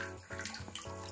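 Tap water runs while raw pork trotters are rinsed before boiling, a close, steady splashing stream with shifting tone as the meat moves under the flow, heard alone without talk.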